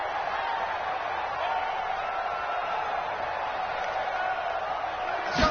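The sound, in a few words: stadium crowd in American football video game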